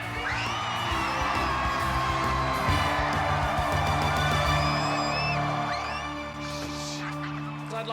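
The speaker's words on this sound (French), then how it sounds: "Applaudissez-les bien fort." A school crowd cheers, whoops and applauds as the Lions team is introduced at a match, a loud, sustained roar of voices and shouts with children yelling throughout.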